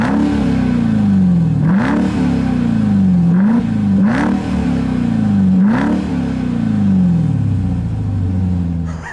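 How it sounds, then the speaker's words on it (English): A 2021 Dodge Durango Hellcat SUV's loud engine revs repeatedly, about four sharp throttle blips rising and falling over a steady exhaust rumble, close by with no talking. "since I'm back here and talking exhaust, take a listen to this thing as it revs"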